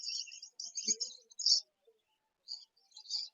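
Budgerigars at an open-air bird market give quick, high chirping bursts, a few clustered calls separated by short silent gaps, clear and fairly close.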